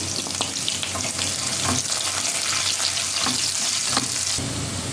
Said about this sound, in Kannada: ಈಗ ಇದು ಸ್ವಲ್ಪ ಫ್ರೈ ಆಗಿದೆ